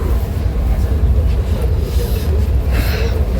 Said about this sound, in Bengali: আর রাইট টাইম আমার ট্রেন ছেড়ে দিয়েছে।